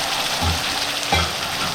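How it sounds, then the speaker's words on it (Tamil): Ground paste of coconut, green chili and onion dropped into hot oil with spluttering mustard seeds, bursting into a loud sizzle with two thumping drops or stirs, close and alone with no talking. "கடுகு நல்லா பொரிஞ்சோடனே இந்த அரைச்சி வச்ச பேஸ்ட்டை போடணும்."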